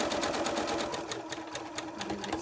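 Sewing machine doing free-motion stitching on a beginner Christmas tree hanging, running at a steady fast rhythmic whir, moderately close and alone without talk.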